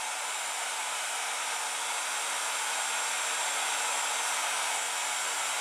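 A heat gun blows steadily on Iced Enamels craft powder, giving a continuous airy hiss that holds at an even, moderate level with no talking.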